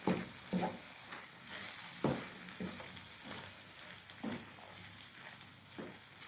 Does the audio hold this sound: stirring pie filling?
yes